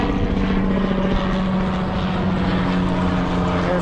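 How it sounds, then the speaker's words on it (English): A loud, steady rotor drone fills the whole stretch, a helicopter's thumping hum with no voices over it. "There's a helicopter, which I'm sure you can hear"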